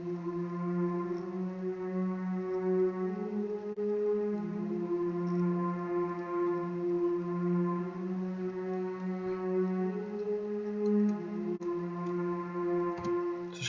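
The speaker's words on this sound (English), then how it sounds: "And so this is just the choir." A choir sample from the Labs plugin in FL Studio holds soft sustained vocal chords, steady and ambient, with slow gentle swells and no talking.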